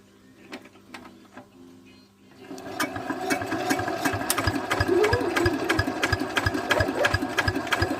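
A single-cylinder R180 diesel engine on a walking tractor cranks over without catching, giving a steady, loud, rapid mechanical chugging that begins after a quiet start and carries on to the end.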